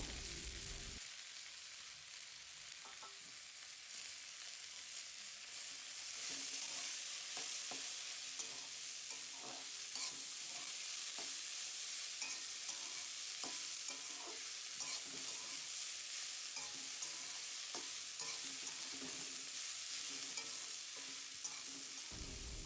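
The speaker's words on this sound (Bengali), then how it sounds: "এবার আমরা সয়না ফুলগুলোকে এর মধ্যে দিয়ে দিলাম, দিয়ে ভালো করে এটাকে নেড়ে নেব" Drumstick flowers fry in a pan while being stirred. Continuous soft sizzling is broken by repeated scraping and clinking strokes, and the sound grows a little louder partway through. No one speaks.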